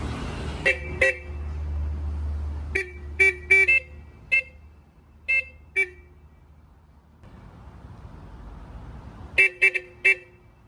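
A vintage iron horn on a Malinta–Novaliches jeepney blasts in short bursts over a low idling engine: a quick pair of toots, a cluster of five or six honks, a few lone ones, then another rapid triple near the end, all loud and close.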